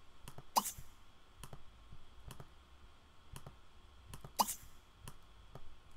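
Mouse clicks while playing Sims 3 on a computer, a handful of sharp, quiet clicks spaced irregularly, two of them louder, over faint room hiss with no talk.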